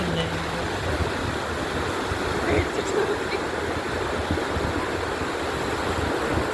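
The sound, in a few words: sea waves at Kozhikode beach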